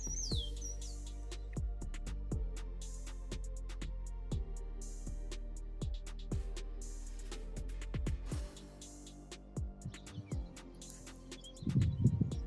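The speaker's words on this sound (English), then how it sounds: "I don't know where that bird is at either, but sure a beautiful sound" Outdoors in spring, a bird sings and chirps with short repeated calls over a low steady hum and scattered soft thumps, moderately distant and faint.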